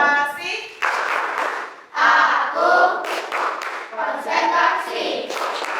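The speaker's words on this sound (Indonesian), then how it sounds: "Tepuk konsentrasi." A class of children claps in short rhythmic bursts as part of a classroom concentration routine, the claps mixed with loud chanted voices throughout.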